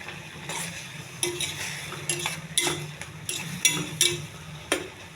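A spoon stirs sticky red rice in a cooking pot, scraping and clinking against the metal in uneven strokes over a soft sizzle.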